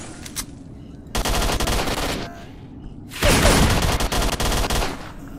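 Automatic gunfire from STALKER: Shadow of Chernobyl rattles in two loud, sustained bursts, with a quieter gap between them and no talking.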